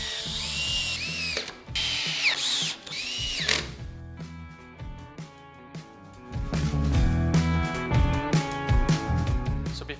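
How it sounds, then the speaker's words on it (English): Power drill driving screws into 2x4 workbench legs, several bursts of whirring with pauses and ratcheting, close and loud. "you want to get your screws. Go ahead and fasten everything tight."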